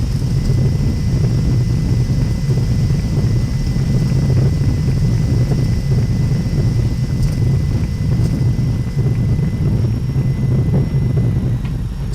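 A Boeing 767-400 in X-Plane 11 deploys reverse thrust after landing at Denver, a loud, sustained engine roar and rumble that stays even throughout with no talk.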